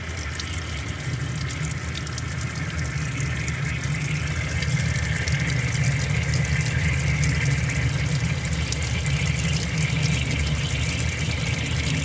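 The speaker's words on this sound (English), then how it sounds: "Oh, the bleach. It's flushing out right now." Kenmore Elite Calypso washer flushing bleach through with water, a loud, continuous rushing gush with a low pump rumble underneath, steady and close for the whole stretch, no talking.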